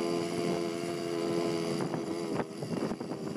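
A 1985 Yamaha QT50 Yamahopper moped engine runs steadily with a buzzing hum, close and continuous, with some bumps and rattles toward the end.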